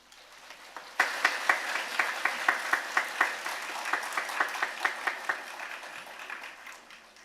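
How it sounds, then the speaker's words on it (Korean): A church gathering's audience bursts into applause after a faint start, with rhythmic, distinct claps that stay strong for several seconds and then gradually thin out. "이승주 지파장님 큰 박수로 모시겠습니다."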